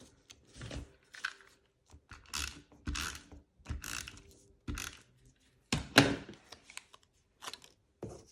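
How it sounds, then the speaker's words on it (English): A tape runner is pressed and drawn along a paper pillow box, giving a series of short, close, clicking ratchet strokes separated by brief pauses. "I'm just going to use a tape runner for this part."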